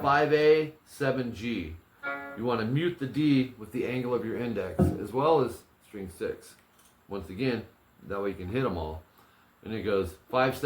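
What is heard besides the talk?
No everyday noise stands out behind the speech.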